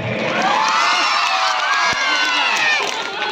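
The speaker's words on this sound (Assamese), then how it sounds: "আমাক জোৰকে হাত চাপৰি লাগে।" A live stage comedy show audience cheers, whoops and shouts loudly in a dense, continuous crowd roar, with clapping blended in throughout the whole stretch.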